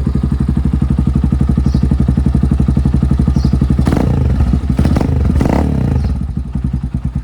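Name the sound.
Tekken 250 motorcycle engine idling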